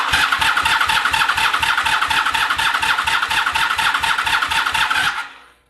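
A motorcycle engine cranks with rapid rhythmic pulses and catches during carburetor syncing, after the float bowls are pre-filled with fuel. It runs loud and close for about five seconds, then cuts off abruptly.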